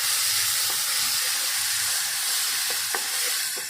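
Chopped tomato and black cumin seeds sizzle steadily in hot oil in a pan, a loud, even frying hiss with a few faint clinks of stirring.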